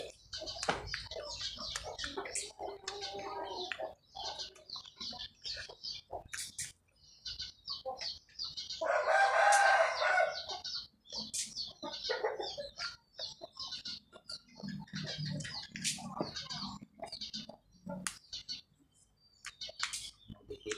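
Chickens cluck in a rural setting with repeated short calls, and a rooster crows loudly once in the middle, all close by.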